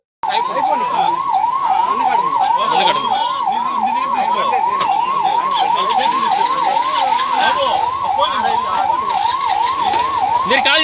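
A 108 ambulance's siren wails loudly and steadily at close range, its rapid rising-and-falling tone cycling continuously, with faint background noise and no speech over it.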